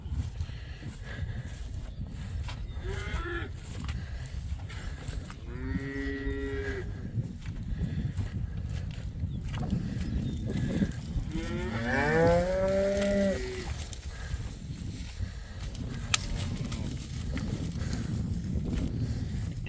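Cows and bulls on a farm moo several times, with long drawn-out calls, some near and some further off. A low rumble of wind or handling noise runs underneath.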